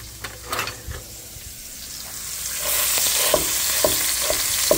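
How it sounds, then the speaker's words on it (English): Chopped Polish sausage sizzles in a pan for sausage spaghetti, the frying hiss swelling louder partway through while a utensil scrapes and stirs in several distinct strokes, close and without talk. "I'm also putting some chopped up Polish just to give it some more calories."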